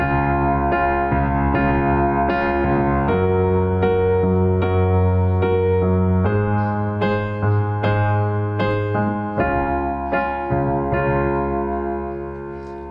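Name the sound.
piano major thirds on black keys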